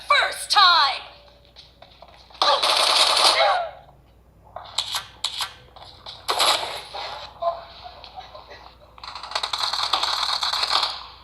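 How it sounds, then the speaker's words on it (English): Gunfire in the mobile game PUBG Mobile, played on a Samsung Galaxy S21 Ultra: several sharp bursts of rapid automatic shots and crackling hits, with a voice talking between the bursts. "HD for PubG Mobile, and we'll see what kind of performance we get from that. Team match, let's go."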